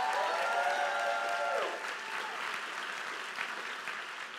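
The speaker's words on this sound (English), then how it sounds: "let's hear a little bit louder your applause for this group" A conference audience applauds a group in dense, steady clapping, with a speaker's voice over it at the start before the applause carries on alone.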